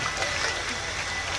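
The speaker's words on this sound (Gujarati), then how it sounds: "જોરદાર તાળીઓ થયા" Brief, dense applause from a crowd at a Republic Day parade in Jambusar, Gujarat, greeting a dog display, an even burst of clapping at close range.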